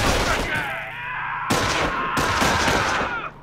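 Machine-gun fire from an MG-42 in Company of Heroes, in bursts of broadband crackle at about 1.5, 2.2 and 2.4 seconds over a steady battlefield rumble, with a low hum and some voice-like sound in the mix.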